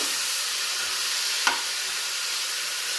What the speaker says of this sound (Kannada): ಎಣ್ಣೆಲೇ ಚೆನ್ನಾಗಿ ಫ್ರೈ ಮಾಡ್ಕೋಬೇಕು ಮುಚ್ಚಿಡಲ್ಲ ಹೀಗೆ ಬೇಯಲಿ